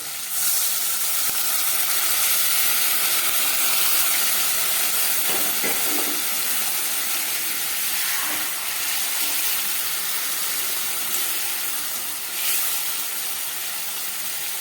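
Spiced water is poured into a hot pan of amudi fish curry with fried vegetables and coriander, setting off a loud, steady steam hiss and sizzle that lasts throughout.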